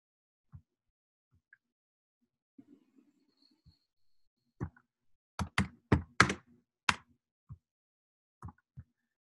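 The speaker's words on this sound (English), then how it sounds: "There's so many like people typing right now." Scattered keystrokes from people typing on computer keyboards during an online community call, sparse soft taps that bunch into a short quick burst of louder clacks before thinning out again, with no talking.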